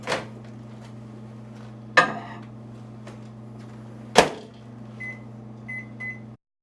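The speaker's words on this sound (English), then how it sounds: "I'm going to throw it back into the microwave for 1 final minute." A microwave oven cooking meatloaf hums steadily with a low drone, interrupted by a few sharp clunks of a door or turntable and closing beeps at the end.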